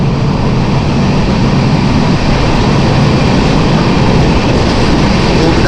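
A passenger train on the Konkan route from Dadar toward Chiplun runs through a tunnel near Panvel, producing a loud, dense, unbroken rumble that fills the whole stretch without pause.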